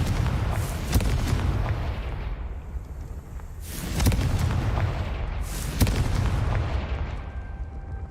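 A Confringo fire spell bursts in Hogwarts Legacy, loud booming blasts erupting near 0, 4 and 6 seconds over a constant roaring rumble, with no talking.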